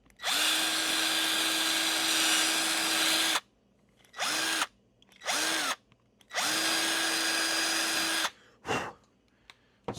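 A power drill whines loudly and close while drilling a hole in a throttle-build wall panel, with two long runs and several short bursts between brief silences.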